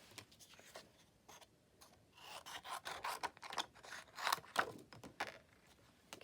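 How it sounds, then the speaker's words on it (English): Scissors cut across a piece of craft card to fit it into a paper punch, a quiet series of irregular snips and rubbing scrapes close by, denser in the second half. "I'm going to have to cut that across so that I can fit it in the punch"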